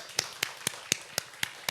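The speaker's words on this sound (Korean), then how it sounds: "하나님께 영광의 박수 올려드리겠습니다" A youth church service congregation claps in unison to give glory to God, seven crisp, evenly spaced claps in a steady beat, fairly quiet and sharp against a hushed room.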